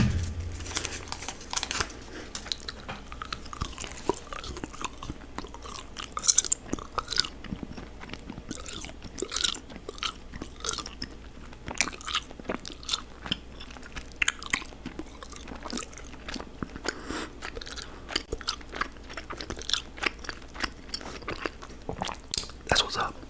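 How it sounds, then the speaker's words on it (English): Gum being unwrapped and chewed close up, with crinkling wrapper and repeated wet biting and chewing clicks throughout, softly paced in a quiet whisper-style setting. "let me get the piece of gum here"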